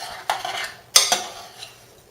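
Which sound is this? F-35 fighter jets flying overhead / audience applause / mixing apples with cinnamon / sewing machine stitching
mixing apples with cinnamon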